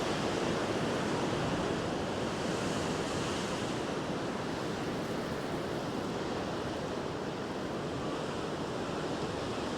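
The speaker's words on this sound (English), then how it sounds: "how the waves are hitting the rocks" Ocean waves crash against the rocky Cornwall coastline in a loud, continuous roar of surf and spray, with wind noise and no voices.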